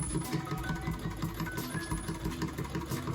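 A Singer 66-18 straight-stitch sewing machine top-stitches around a mug rug, a close, steady rhythmic chugging of the needle mechanism that keeps going without pause.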